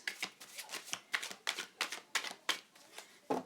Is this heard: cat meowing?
no